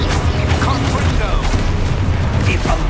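A Confringo blasting spell explodes in Hogwarts Legacy with a loud, rumbling burst, followed by crackling impacts and clattering debris over a few seconds, with voices faintly underneath.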